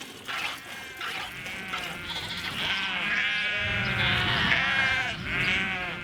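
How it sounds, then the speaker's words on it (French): Several black Velay sheep bleat repeatedly, overlapping wavering cries close by, continuing throughout with no pause. "Des moutons noirs capables de vivre presque en autonomie à l'extérieur"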